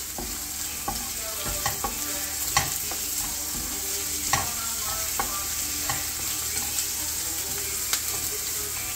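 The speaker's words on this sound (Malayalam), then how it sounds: "സവോള അരിഞ്ഞ് ലേശം ഉപ്പ്, സവോള വഴറ്റാൻ വേണ്ടി ലേശം ഉപ്പ് നമ്മൾ ചേർക്കുന്നു." Chopped onion sautés with a little salt in a pan for a beans thoran, a steady close sizzle and frying hiss broken by scattered clicks and scrapes of stirring, with no voices.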